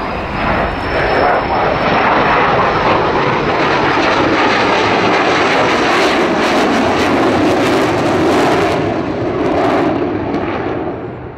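An aircraft with its wheels down makes a low pass at an RAF airshow, a loud continuous engine roar that stays strong throughout and eases slightly at the end.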